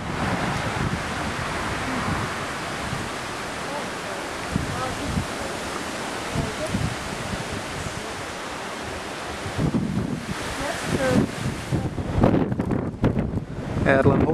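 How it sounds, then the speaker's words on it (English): Strong outdoor wind buffets the microphone in a continuous roar with gusty surges, getting rougher and more broken toward the end, while faint speech sits partly buried beneath it. "hopefully the wind is not too obnoxious in the background"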